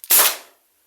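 A single sharp Byrna launcher shot, loud and close, a crisp crack with a short fading tail and no voices.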